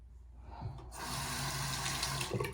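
A bathroom tap runs steadily as a sink fills with cold water for a face rinse, a close, continuous splashing rush after a brief quiet start.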